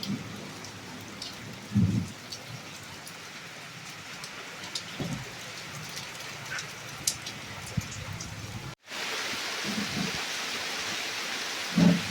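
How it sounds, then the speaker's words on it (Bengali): A heavy downpour with thunder during a rainy evening: a constant rushing hiss of rain on surfaces, broken by several low rumbles of thunder rolling in at intervals, fairly distant and soft. "এখন মুসলধারে বৃষ্টি হচ্ছে"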